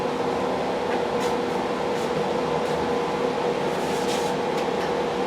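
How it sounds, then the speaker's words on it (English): Steady mechanical hum of a furnace or air conditioner unit running indoors on a homestead, a constant drone with a tonal whine and faint intermittent hiss, no voices. "sorry about the noise from the furnace or the air conditioner unit"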